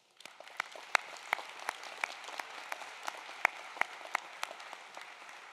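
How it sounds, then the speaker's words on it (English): Audience applause at a spring commencement ceremony, a steady wash of many hands clapping with a few sharper nearby claps standing out, moderately distant and without talk. "let's pause and show our appreciation with a round of applause for all of the parents who are here"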